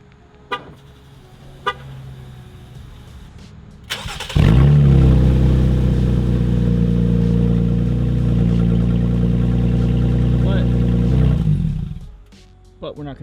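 A Jeep engine runs with no exhaust fitted, starting abruptly and holding a loud, steady, raw drone for about eight seconds before cutting off; a few faint clicks come before it starts.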